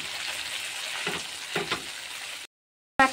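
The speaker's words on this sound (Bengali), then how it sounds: "টমেটো পিউরি দিয়ে ভালো করে একটু নেড়ে নেব" Prawns frying with tomato puree in a pan give a soft, steady sizzle broken by a couple of stirring scrapes, then cut off abruptly.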